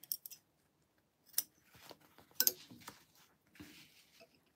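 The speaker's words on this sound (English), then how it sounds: "Where's my snips?" Sewing snips cutting fabric: a few sharp, quiet snipping clicks spaced across a few seconds, close and alone in an otherwise quiet room.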